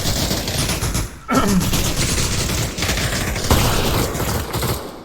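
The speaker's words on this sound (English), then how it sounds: "armor would have not mattered as his head just exploded after Don shot it with an AK" Rapid rifle fire from an AK in a Counter-Strike-style multiplayer match, loud, dense bursts of shots running through most of the moment with a few sharper cracks standing out.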